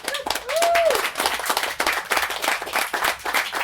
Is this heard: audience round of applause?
yes